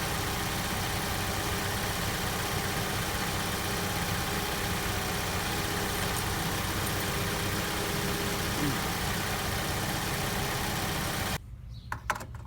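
A car engine idles steadily while parked with the hood up during a fluid check, a continuous low hum that runs throughout before cutting off abruptly near the end.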